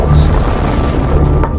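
A deep, loud boom standing in for an atomic bomb explosion, a sustained low rumble filling the whole moment with a sharper burst near the end, no voices.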